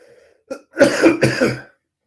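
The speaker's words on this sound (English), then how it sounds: "Just give me a moment. I have to cough." A single person coughs and clears their throat in a short, close burst of two or three harsh expulsions, with no talk over it.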